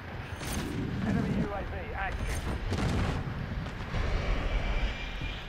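A Call of Duty: Modern Warfare 3 Ground War match with constant heavy gunfire, explosions and aircraft noise forming a loud, dense battle din, with voices talking over it.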